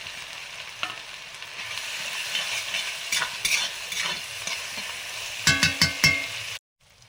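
Chopped ginger, garlic, onion and green chilli fry in hot oil, a steady close sizzle with stirring scrapes and a few sharp clacks of the spatula near the end before it stops abruptly.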